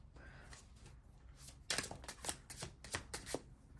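Tarot cards are shuffled up close in a quick run of crisp riffling and slapping bursts, with no one speaking.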